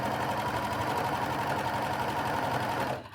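A sewing machine stitches a gathered waistband onto a dress, its steady close mechanical whir running continuously before stopping abruptly near the end.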